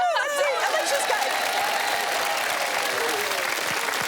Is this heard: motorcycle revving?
no